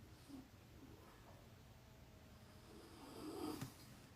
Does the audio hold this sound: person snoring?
yes